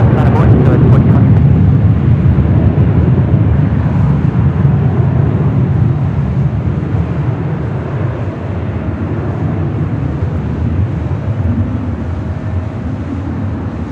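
Jet airliner taking off from runway 24 left at Los Angeles International Airport, a loud, broad engine roar that slowly fades as the aircraft moves away, with radio chatter over it.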